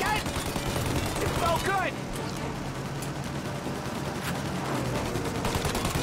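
Rapid gunfire in Mafia Definitive Edition, aimed at the engines of a plane. Dense bursts of shots run through the whole clip, with excited speech over them.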